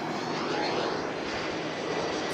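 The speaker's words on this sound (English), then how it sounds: "A lot of airplanes." An airplane passes overhead near an outdoor Cars and Coffee car show in Wynwood, a loud steady broadband engine roar that fills the whole short stretch with no talk.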